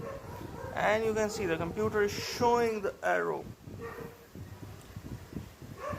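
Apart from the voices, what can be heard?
dog barking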